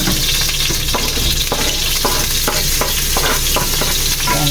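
Garlic fries in a hot pan for octopus spaghetti with a loud, continuous sizzle, broken by repeated scraping stir strokes, close and alone.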